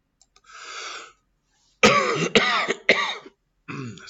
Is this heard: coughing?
yes